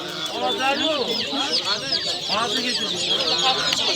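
Chickens and roosters, including white roosters, cluck in a busy chorus at a poultry market, close and continuous, with voices mixed in.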